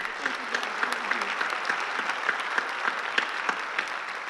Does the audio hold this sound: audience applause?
yes